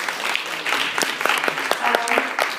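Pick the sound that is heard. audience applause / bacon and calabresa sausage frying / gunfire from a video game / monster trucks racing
audience applause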